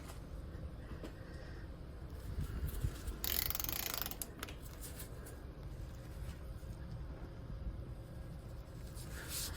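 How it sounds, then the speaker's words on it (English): A medium-size ratchet clicks steadily while undoing the front brake caliper bolts on a 2006 Mercedes C180 W203. The clicks are fairly quiet and sit over a constant background hum, with a louder burst of mechanical noise in the middle. "medium size ratchet, which I use to undo this, and also I will use to tighten the bolts"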